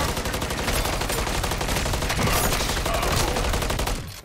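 Sustained rapid automatic gunfire in Call of Duty Modern Warfare 3 Zombies mode, loud and dense bursts rattling continuously for several seconds before cutting off abruptly.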